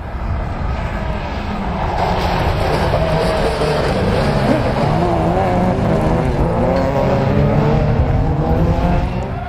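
Autocross race cars roar at the start of a final, a loud continuous blend of revving engines heard close up with no voices.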